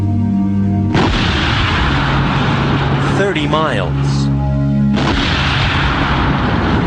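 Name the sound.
HARP gun cannon firing probes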